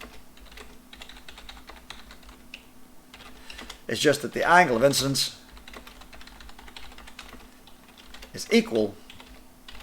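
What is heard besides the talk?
typing on a computer keyboard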